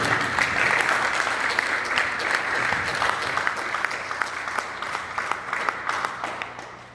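A church congregation at a Haitian Church of the Nazarene claps together to acclaim the Lord, steady dense applause from many people that gradually fades toward the end.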